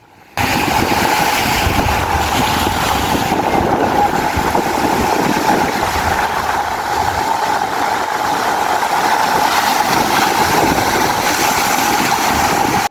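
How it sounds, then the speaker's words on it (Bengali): The sea roars along the Egyptian coast as a loud, unbroken rushing noise mixed with wind buffeting the microphone, lasting the whole stretch. "সমুদ্রের গর্জন আপনাদের শোনায় কেমন লাগে"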